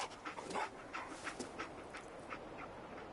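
Dogmeat, the canine companion in the video game Fallout 4, pants steadily in soft rhythmic breaths over a faint ambient game background, with no talking.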